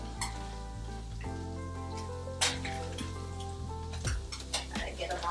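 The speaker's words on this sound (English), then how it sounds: "I just drop them on in the fryer" Fish pieces dropped into a deep fryer sizzle and crackle steadily, with a sharp burst of bubbling as each piece hits the oil and brief clinks of utensils.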